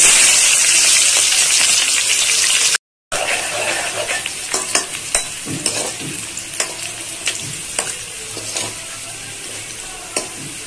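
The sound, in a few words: onions frying and being stirred in a pan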